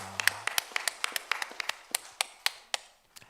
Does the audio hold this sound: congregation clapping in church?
yes